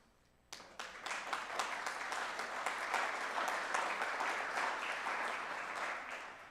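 A church service audience at SMUUCh bursts into applause for Vicki and John, the clapping starting suddenly and holding as a dense, even roar for several seconds before easing slightly, heard at a moderate distance.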